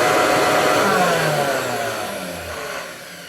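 A Hoover 119 upright vacuum cleaner runs with its brush bar removed, its motor giving a loud whine that drops steadily in pitch as it winds down.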